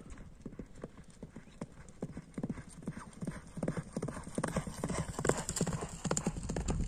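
A champion racehorse gallops past, its hooves beating a fast, rhythmic clip-clop on the ground. The hoofbeats grow louder and closer as it runs, with faint voices in the background.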